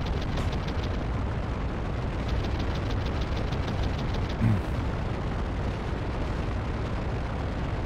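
A rocket fired from an aircraft in a flight video game strikes with one brief, heavy boom over a constant low engine drone and rhythmic mechanical ticking.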